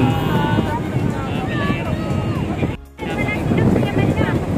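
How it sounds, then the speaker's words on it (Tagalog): Strong wind buffets the microphone with a rough, roaring rumble at Bagasbas while people talk over it, briefly dropping out for a moment. "Malakas yung hangin."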